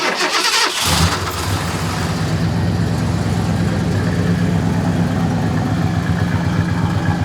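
A 1986 Ford F250 fitted with Holley Sniper 2 fuel injection cranks briefly, then catches and settles into a loud, rumbling idle close by, with no talking.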